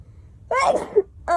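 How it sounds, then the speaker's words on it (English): One close, loud sneeze from a young person: a short sharp intake followed by the explosive burst, then a quick breath after it. "Now, I have to sneeze."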